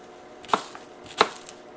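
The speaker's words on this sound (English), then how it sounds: "slice up my onions and sprinkle them in there" A kitchen knife slices through onions on a cutting board for a leftover turkey meal, making two crisp, close chopping strokes about half a second apart with a quiet pause between them.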